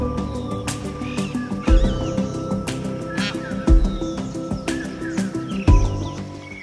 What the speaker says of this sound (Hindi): बुलबुल की आवाज, सामने मोर है